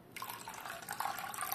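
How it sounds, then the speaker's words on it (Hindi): Water poured from a tap or jug into thick yogurt for dahi vada, a steady close trickle and splash that runs for about a second and a half without any talk. "क्योंकि दही अपना गाढ़ा है तो हम इसमें थोड़ा पानी मिला देंगे"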